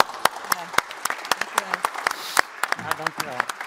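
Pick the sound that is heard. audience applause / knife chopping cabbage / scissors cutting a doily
audience applause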